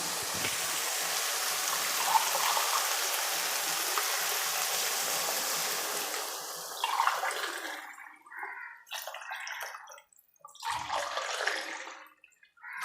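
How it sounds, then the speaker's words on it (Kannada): Water pours steadily into a pot for masala upma for several seconds, then breaks into shorter splashes and trickles with brief pauses between. "ನಾನು ಒಂದು ಮೂರುವರೆ ಗ್ಲಾಸ್ ಆಗೋಷ್ಟು ನೀರು ಹಾಕ್ತಾಯಿದ್ದೀನಿ"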